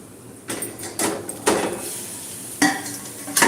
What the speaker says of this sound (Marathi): आपण झाकण काढायचं आहे